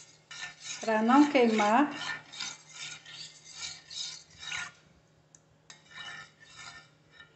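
A spoon stirring a gelatin dessert mixture in a pan on the stove, scraping and clinking in repeated strokes; someone speaks briefly over the first strokes, then the scraping continues alone with a short pause.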